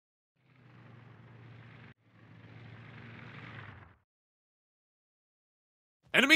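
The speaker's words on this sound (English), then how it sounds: "Enemy aircraft incoming!" Enemy aircraft in World of Warships Blitz flying past, a low droning engine hum in two steady passes broken by a short gap, then silence and a sharp burst at the end.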